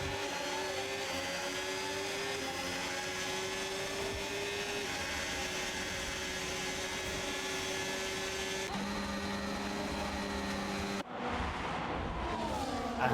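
Race cars screaming around the Miami Grand Prix circuit, a sustained high-pitched engine drone with shifting tones as cars pass, steady and fairly distant, ending in a sharper nearby rush.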